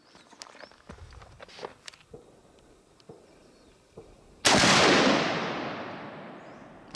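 One sharp, loud shot from a Karri's Guns Para Marauder AR pistol, with the blast and its echo fading over a couple of seconds, after quiet handling clicks and rustling.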